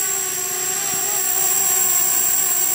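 Homemade 3D-printed drone flying outdoors in strong wind, its propellers giving a steady high-pitched whine with a constant tonal hum, close and continuous throughout.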